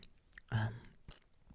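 Crunchy fairy bread, white bread topped with sprinkles, bitten once loudly up close, followed by softer chewing crunches in an otherwise quiet setting.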